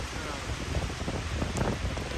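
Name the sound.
strong wind outdoors on a disc golf course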